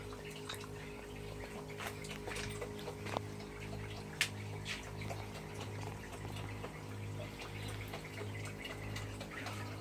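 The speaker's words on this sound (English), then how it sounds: "So the water runs from this end and is almost level, but it's just slightly going in this down direction, and it's falling down into this." Quiet, continuous trickling of water flowing along a nearly level hydroponics channel and falling into a container, with a soft steady hum underneath from an off-grid solar setup and occasional faint drips.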